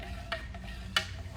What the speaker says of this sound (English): And you just go ahead and give that nice stir.